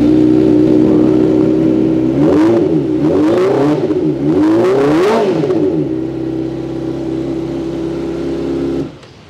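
A Kawasaki ZX-25R with a custom cafe racer build, its 250 cc four-cylinder engine fitted with left and right custom exhausts, idles steadily, then blips sharply through three quick revs before settling and cutting off.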